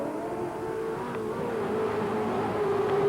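Race cars at the Pepsi Powerdome, Fraser Park, pull away to start a heat, their engines a steady droning roar that rises slightly as they accelerate, heard from a distance.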